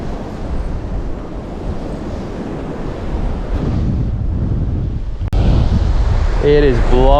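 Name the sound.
strong wind blowing at coastal camp spot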